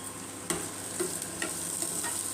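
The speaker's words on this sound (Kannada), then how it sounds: "ಈಗ ಇಷ್ಟು ಕೂಡ ಒಂಚೂರು ಹಸಿ ಸ್ಮೆಲ್ ಹೋಗೋ ತನಕ ಸ್ವಲ್ಪ ಫ್ರೈ ಆಗಲಿ." Turmeric powder and spices frying in a pan for a North Karnataka-style raw poha snack, with a steady low sizzle and a few sharp stirring clinks and scrapes spaced about half a second apart, close and moderately quiet.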